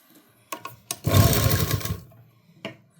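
A sewing machine runs one short burst of about a second while stitching the folded lining into the neck of a readymade kurti. A few soft clicks of handling come before and after it, and no one speaks.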